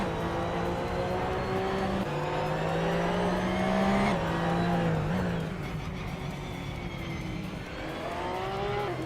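Porsche 911 Cup race cars, older models and 2017 versions, howl through a racing video game, engine notes rising and falling with gear shifts and passing cars, loud and steady throughout.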